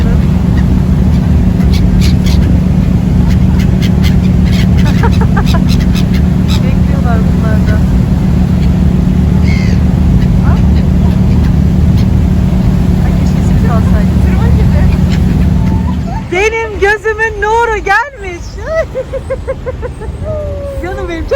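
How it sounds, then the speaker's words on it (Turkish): Aboard a ferry where passengers throw simit to birds, a loud, steady engine drone fills most of the time; near the end it thins out and voices and warbling calls come through. "Vapurdayız kuşlara simit atıyorlar."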